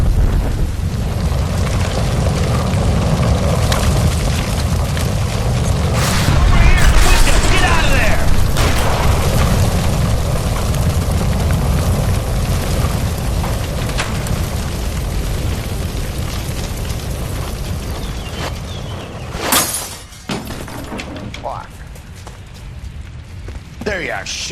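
A gas line explodes in the video game L.A. Noire: a loud sustained roaring blast with heavy low rumble, followed by crackling debris and a sharp burst near the end.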